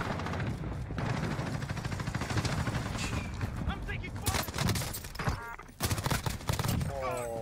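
Hostile gunfire in Warzone season 6, rapid bursts of automatic rifle shots crackling in clusters, growing sharper and closer toward the end with a voice briefly heard between volleys.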